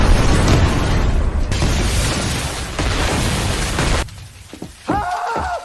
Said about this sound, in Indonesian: Tidak hanya kuil saja yang meledak